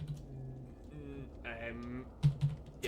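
Keyboard keys are pressed during play of the video game Shadows Over Loathing. A few close clicks come near the end under a quiet voice and soft game sounds.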